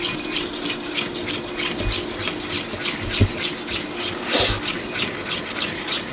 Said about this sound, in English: I'm just going to whisk that into my egg yolks